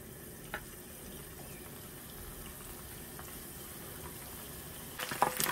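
Vegan tofu-stuffed mushrooms frying in a hot pan, a faint, steady sizzle throughout with a sharper crackling spurt at the very end.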